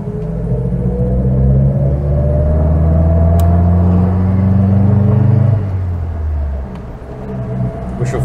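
A 1951 Citroën Traction Avant 11 Normale accelerates on a dual carriageway, its engine droning loud and close as the pitch climbs through the gear, then drops after a shift.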